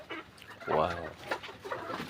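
Mature poultry-farm chickens ready to lay cluck in a few close, uneven bursts, with some faint speech mixed in.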